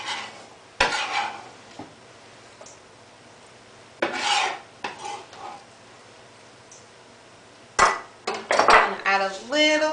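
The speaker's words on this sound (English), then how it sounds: "We're going to mix all of that in a bowl." Salsa of minced serranos, diced tomatoes and onions mixed in a bowl: several bursts of scraping and clinking as a utensil works against the bowl, with quiet pauses between them, no talking.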